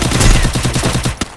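Rapid automatic gunfire from a mobile shooting video game, loud and dense, with a fast rattling burst running the whole stretch and one sharp shot standing out near the end.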